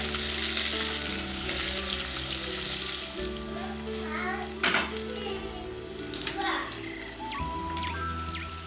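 Shallots, garlic, green chillies and curry leaves sauté in hot coconut oil, a steady, bright sizzle with occasional stirring scrapes and pops, a low background hum underneath and a voice talking over it.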